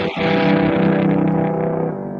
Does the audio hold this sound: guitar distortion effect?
yes